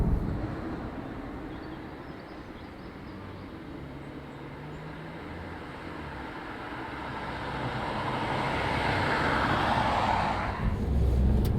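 Mini Countryman SUV driving on English streets: a steady low road-and-engine rumble heard from the cabin, swelling slightly toward the end, with no talking.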